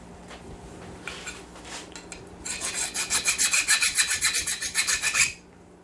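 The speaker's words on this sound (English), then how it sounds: "And then I just use the file, clean up the backside." A metal file scraping the back of a metal part, a few tentative strokes and then a run of rhythmic, evenly spaced rasping strokes, close and clear with no talk.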